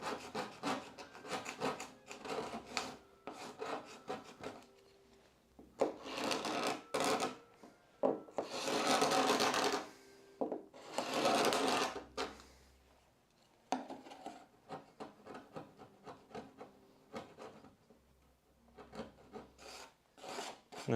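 A palette knife scrapes the corners of a wooden door under restoration, making a series of close, dry rasping strokes of varying length with quiet pauses between them.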